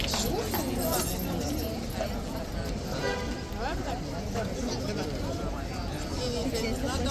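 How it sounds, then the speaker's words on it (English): Hooves of a racehorse clip-clop on the ground as it is pulled back into the starting box, amid crowd babble and talk. "the troopers pulled this horse right back into the box"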